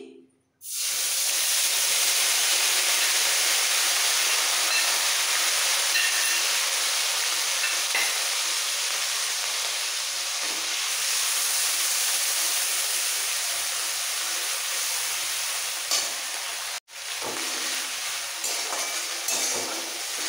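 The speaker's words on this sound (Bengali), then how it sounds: "পেঁয়াজ হালকা একটু ভাজা হয়ে গেলে দিয়ে দেবো সামান্য একটু জল" Onion paste frying in a pan with tempered spices for a prawn and pointed gourd curry, a loud steady sizzling hiss, briefly cut off near the end before resuming.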